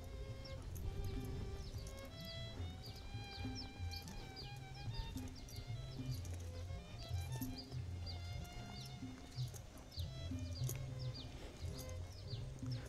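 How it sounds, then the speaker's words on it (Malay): Birds singing and chirping in a quiet village countryside setting, scattered bright calls repeating over a low rumble of footsteps or movement, fairly faint and with no talking. "Dan yang kita dengar cuma suara-suara burung."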